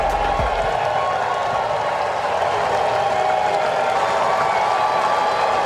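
Dense, loud baseball crowd roaring and applauding in a standing ovation for third baseman Anthony Rendon at a Nationals home game, a continuous wash of cheers and clapping with a brief low thump at the start.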